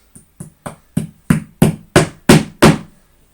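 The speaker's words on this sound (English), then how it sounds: "hammer these nails in" Nine hammer blows striking nails into chipboard, evenly paced and growing louder and sharper toward the end, then stopping.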